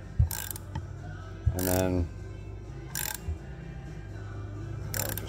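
A ratchet clicks in short bursts while torquing mounting studs into a Honda TRX250R engine center case, four brief metallic ratcheting runs separated by pauses, close and fairly quiet, with a few words spoken.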